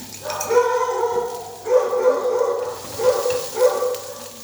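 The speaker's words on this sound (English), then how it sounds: "Sorry about the dogs." Dogs barking in bursts: a run of yapping, a pause, then several shorter bouts of barking, fairly close and moderately loud.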